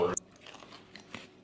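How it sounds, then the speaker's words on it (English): A bite into an Asiago cheese pizza crust, then a few soft, sparse chewing crunches up close in a quiet room. "I want to bite the crust"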